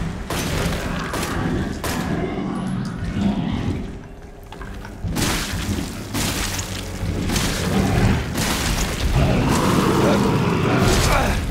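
Gunfire in Resident Evil 7's Not a Hero DLC: a run of loud booming shots in irregular bursts, heavy and close, with voices talking between them.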